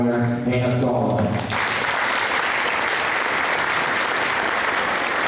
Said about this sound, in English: Let's give a round of applause to our 3 proficiency area winner, Hannah Sullivan